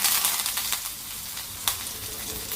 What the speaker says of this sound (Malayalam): കടുക് പൊട്ടിട്ടുണ്ടാകും. പിന്നെ ഇതിലേക്ക് കരിയാപ്പില,